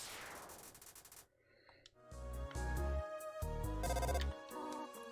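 A telephone ringing in the video game Undertale, preceded by a fading electronic whoosh, then bright repeated electronic ringtone bursts in two loud groups, with no talking.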